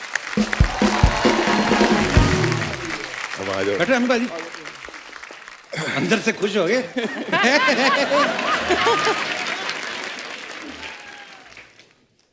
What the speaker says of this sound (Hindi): शरद भाई और एमी पाजी के लिए जोरदार तालियां आइए प्लीज